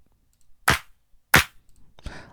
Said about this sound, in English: So the first sound is just this clap.